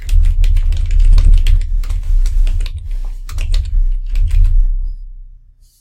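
Rapid clicking keystrokes on a computer keyboard, close and loud, in quick irregular bursts over a low steady hum, with brief pauses before tapering off at the end.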